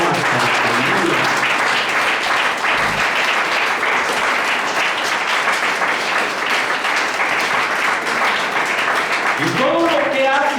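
A church congregation claps steadily together as an offering of praise to the Lord, a dense sustained wave of applause filling the room, with a voice briefly rising over it near the end.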